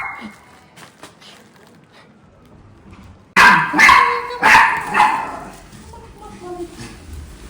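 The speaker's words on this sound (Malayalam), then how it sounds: "വളരെ ബെൽ വിഹേവ്ഡ് പട്ടിയാണ് തന്നെ കേട്ടോ മോളി" A dog barks loudly several times in a quick cluster after a quiet stretch, followed by softer yips and whimpers close by.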